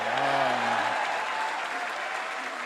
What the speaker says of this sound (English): crowd roaring its approval of El Turki's mistake